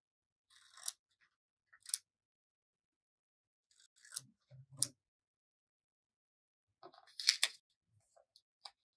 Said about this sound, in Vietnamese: Đối với tờ giấy màu xanh này mình sẽ cắt ra 3 giọt nước nha.